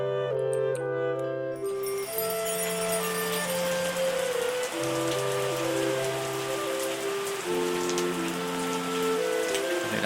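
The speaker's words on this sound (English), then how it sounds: "despite all the rain" Steady rainfall in the wine-making tycoon game Terroir, a continuous wash of drops on a surface playing alongside sustained musical tones throughout, with no talking.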